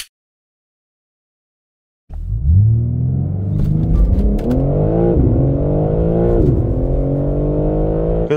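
A second-generation Hyundai Palisade with the 2.5-liter turbo engine starts moving after a short silence, its strained, rising engine drone climbing steadily as the SUV accelerates hard. The sound is loud and close, with no talk over it.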